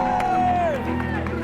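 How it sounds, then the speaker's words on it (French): Crowd cheering and whooping for a contestant in an outdoor tarte flambée cooking battle on a town square, a loud, dense mix of voices with a rising cheer, brief and close. "On applaudit Thibaut!"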